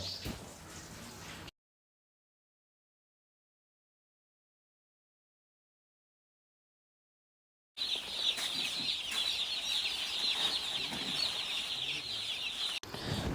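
Young poultry chicks in a farm shed give a dense, continuous chorus of high peeping, heard briefly at first and then steadily after a long stretch of total silence.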